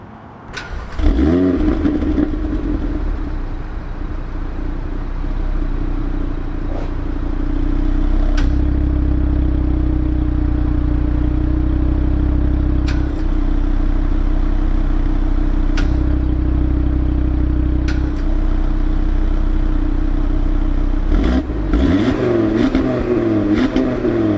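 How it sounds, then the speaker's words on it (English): The 5-cylinder performance engine of an Audi TT RS barks to life and is revved repeatedly through its exhaust, loud and close, with steady blips and a sharp rise and fall near the end. "if you ever wondered what a 5-cylinder performance engine's exhaust sounds like, take a listen."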